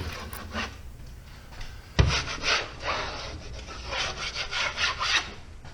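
A drywall knife scrapes and trims a first coat of joint compound on a ceiling repair, a sharp knock followed by repeated close, rasping strokes in an uneven rhythm.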